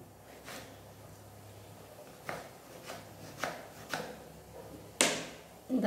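A knife chops vegetables into square pieces on a board: a handful of sharp, quiet cuts land at uneven intervals against a faint background.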